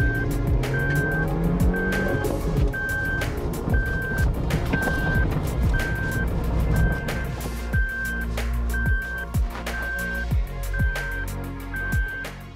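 A Suzuki Jimny launching up an off-road climb in 4 high at an off-road day, engine note rising through gears with loud rhythmic clatter and a steady intermittent beeping tone over it.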